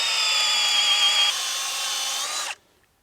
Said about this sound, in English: that's the angle that I'm going to drill the hole with